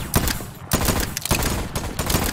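Rapid bursts of gunfire from guns in the video game Voidtrain, several loud close shots in quick succession with brief gaps between volleys, heard without talk.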